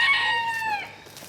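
A Bantam rooster among free-ranging Bantam chickens gives a single loud, close crow that trails off, followed by faint background clucking.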